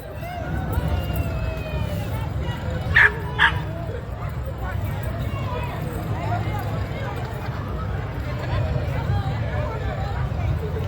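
Dogs walking in a St Patrick's Day parade in Akron let out a couple of brief yips and barks over a steady outdoor crowd murmur, with people talking nearby throughout.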